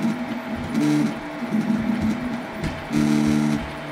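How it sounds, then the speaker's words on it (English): An old, upcycled 3D printer running at 40 mm/s gives a loud mechanical whir with pulsing, tonal stepper-motor whines that rise and fall in short bursts as the head moves, with no talking. "It is printing at 40 millimeters per second and it's loud."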